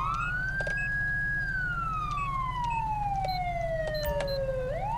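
Loud police car siren in Grand Theft Auto V with LSPDFR: one extended wail climbs, holds, then glides steadily down before starting to rise again at the end, over a continuous deep engine hum.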